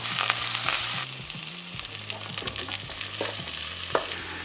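Onions, garlic and ginger frying in deodorised coconut oil, a steady close sizzle with bursts of crackle and a few stirring scrapes, no voices over it.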